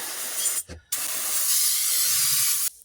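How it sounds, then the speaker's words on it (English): An aerosol can of brake cleaner hisses in a long, loud continuous burst after a couple of short sputtering sprays, close to the microphone, spraying off excess oil on a Dodge Ram during an oil change. "grab a can of brake clean and go ahead and just spray off the excess oil"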